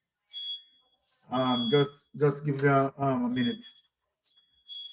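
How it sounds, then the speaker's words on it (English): A home alarm system going off, sounding as a steady high electronic beeping tone that repeats in short bursts, mostly under someone talking nearby. "Now I have an emergency thing going off in terms of my alarm system."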